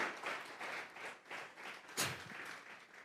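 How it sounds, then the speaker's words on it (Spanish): A church congregation applauds as an offering of palms to God, with steady, dense clapping in several rising and falling waves and one sharp louder burst partway through, no voices over it. "Vamos a regalarle ofrenda de palmas al Dios de la gloria."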